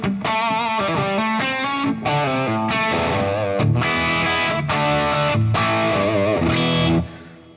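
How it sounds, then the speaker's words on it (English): Distorted electric guitar chords and riffs ring out through a Fractal amp modeler, washed in reverb, loud and continuous before a final trailing decay. "Now I can also switch on the reverb."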